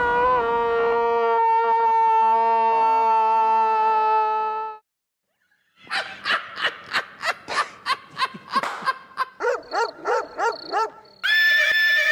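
An Arabian horse whinnies in a loud, drawn-out neigh that breaks into a rapid series of wavering pulses, followed after a short gap by a further whinnying burst, heard alone without speech.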